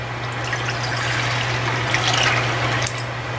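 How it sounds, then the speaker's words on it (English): Water poured into a pot for turkey tail mushroom tea, a soft steady trickle running continuously over a low background hum. "Next, add in 3 cups of water."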